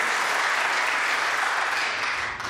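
Dense, continuous applause from an indoor snooker crowd at the English Open fills the whole stretch, steady and loud, tapering off slightly at the very end.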